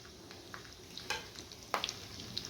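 Stuffed green chillies fry in hot oil, giving a steady close sizzle with a few brief crackles and pops and no talk.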